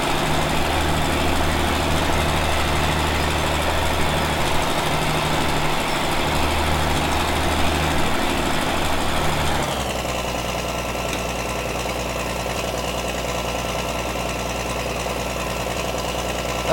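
A tractor engine drones steadily in Farming Simulator 17, a continuous loud mechanical hum whose tone shifts partway through to a lower, smoother running note.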